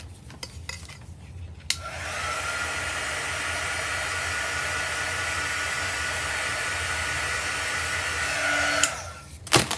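A hair dryer blows steadily for about seven seconds, drying thick chalk paste spread through a stencil, with a few soft handling clicks before and after.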